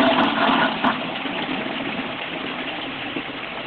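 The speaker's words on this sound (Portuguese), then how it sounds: "você vai dar descarga" Toilet flush with steady gushing water and a rushing, pump-like roar, loud and continuous throughout with no voices.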